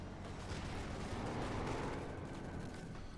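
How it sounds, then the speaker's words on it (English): A rifle grenade fires in Company of Heroes 2, its blast blending into a dense wash of distant battle noise and gunfire that sounds muffled and steady rather than sharp. "Rifle grenade off here."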